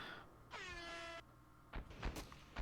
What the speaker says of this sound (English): He has an air horn.